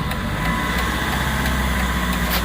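Steady idle of a car engine with a head gasket leak and fouled plugs, close and loud, with a low rhythmic chug and a slightly uneven pulse throughout.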